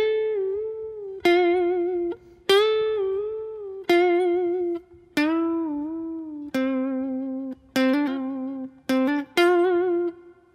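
A guitar plays a riff, a repeating phrase of ringing, sustained notes with a clear plucked attack every second or so, heard alone with no talking.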